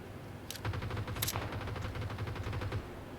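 Rapid automatic gunfire from the video game PUBG on the Vikendi map, a sustained burst of fairly faint crackling shots over a low hum, with a couple of sharper reports near the start.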